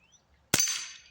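A Crosman 760 Pumpmaster air rifle fires a single sharp, close crack after a quiet pause, followed by a short fading ring.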